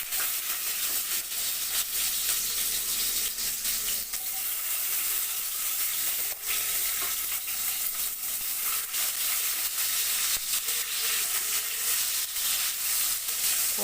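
Tomatoes sizzle and fry in hot oil in a pan, a steady, loud, continuous crackle and hiss throughout with no voices.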